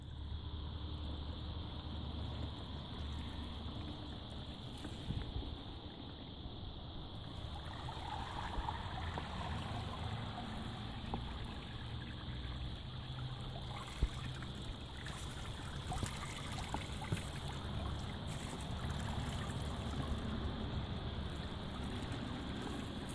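Water trickles and flows steadily over vegetable and herb garden beds, a continuous soft gurgling stream heard close by and alone, with no talking.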